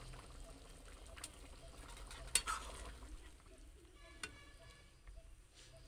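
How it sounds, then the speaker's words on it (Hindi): Fried boiled eggs go into a pan of simmering egg and potato curry, with a steady close sizzle and bubble underneath and a couple of sharp clinks or plops standing out, one near the middle and another toward the end, with no talking. "इसमें हम लोग फ्राई एग डालेंगे"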